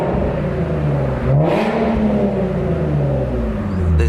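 A revving Infiniti G37 fitted with a Motordyne exhaust, loud and close: the engine holds a steady drone, climbs through a rising rev, then settles back to a high idle.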